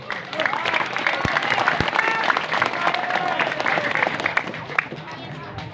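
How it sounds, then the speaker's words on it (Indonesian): An audience applauds in a sustained burst of clapping, with crowd noise and voices mixed in beneath it. "Ente tepuk tanganin apa?"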